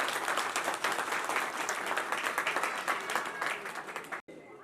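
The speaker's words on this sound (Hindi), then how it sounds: "सभी तालियों के साथ स्वागत करें।" A village crowd claps to welcome a guest at a local gathering, dense sustained applause that fills several seconds before cutting off abruptly, with voices mixed in.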